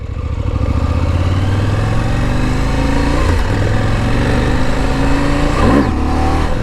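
A 2019 KTM 790 Adventure motorcycle in off-road mode revs hard for a wheelie, the loud close engine note rising steadily in pitch, dipping briefly, then climbing again through two surges.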